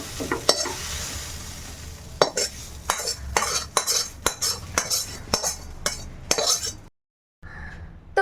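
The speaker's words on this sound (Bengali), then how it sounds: "এইভাবে গ্যাসটা বন্ধ করে দিলাম তো এখন এটা নাড়িয়ে তুলবো" Spicy masala okra stirred in a pan with the gas turned off: a series of sharp metal spatula scrapes and clinks against the pan over a soft sizzle, then a short silence.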